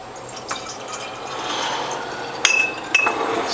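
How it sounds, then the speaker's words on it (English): Apple juice trickling and splashing as it is poured into 14-ounce glass bottles, a steady liquid fill with a couple of sharp glassy clinks near the end. "Next I'm going to pour that into bottles."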